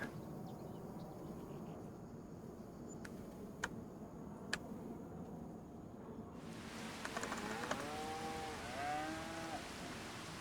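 Faint cattle mooing from a farming video game rises near the end over a steady soft hiss, with a few sharp clicks earlier on.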